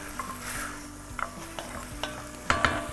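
Chunks of meat and onions sizzle and fry in a pot for Turkish tas kebab, a steady hiss broken by a few sharp scrapes and stirring clinks, close up and with no talking.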